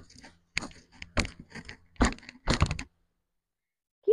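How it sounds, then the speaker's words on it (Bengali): A knife cuts and peels a raw, unripe jackfruit, producing a handful of close, irregular crunching cracks and dull thunks over a few seconds before falling silent. "এখন আমি কাঁঠালটা ছাড়িয়ে নেব।"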